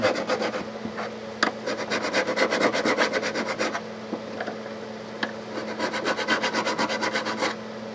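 A 300 grit abrasive rubs back and forth over the frets of a Breedlove acoustic guitar during a fret level and crown, making steady rhythmic rasping strokes in two long runs split by a short pause.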